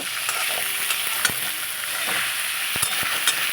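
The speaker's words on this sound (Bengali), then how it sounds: "আস্তে আস্তে করে যখন মশলাটা ভাজা হয়ে যাচ্ছে" Spices, ginger and onion sizzling in hot oil in a pan for a katla fish belly curry, a steady close hiss broken by several sharp scraping stirs, with no talking.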